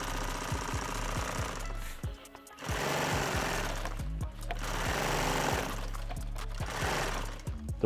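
A sewing machine stitches two fabric edges together a quarter inch from the edge. Its loud, rapid mechanical chatter runs in long bursts and drops out briefly twice between runs.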